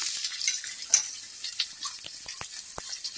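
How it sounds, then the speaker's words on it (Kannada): Onion and cumin sizzle softly in a hot pan, a faint, steady frying hiss with scattered small pops and ticks, no voices over it. "ಈರುಳ್ಳಿ ಒಂದು ಸ್ವಲ್ಪ ಫ್ರೈ ಆಗಬೇಕು."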